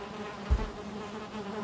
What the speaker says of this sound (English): Oh, we found our second beehive, so that's nice to have too.